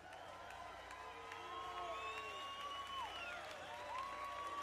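A live audience at a Latin percussion and jazz music festival applauds and cheers, with scattered whistles and whoops over steady clapping, heard faint and distant throughout.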